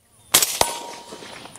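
A Franklin Armory binary trigger fires a gunshot on release, a sharp loud crack quickly followed by a second short crack or clank, and then a fading ringing tail.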